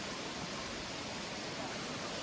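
Steady broadband rush of a waterfall near Hubli Dharwad, continuous and close with no breaks or talk.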